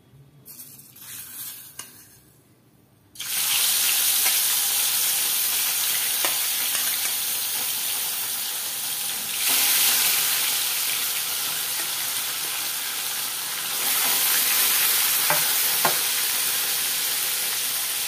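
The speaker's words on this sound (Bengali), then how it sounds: "তেলটা গরম হয়ে গেছে, আমি সামান্য একটু লবণ দেব এর মধ্যে। এবারে মাছগুলোকে ছেড়ে দেব।" After a quiet start, a loud continuous sizzle erupts as small fish hit hot salted oil, crackling steadily and swelling in intensity at times.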